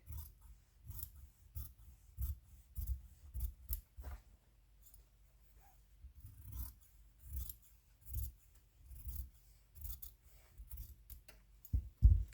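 Scissors snip through fabric pieces while sewing a bottle bag, giving repeated close, crisp cuts in uneven bursts with short pauses between them.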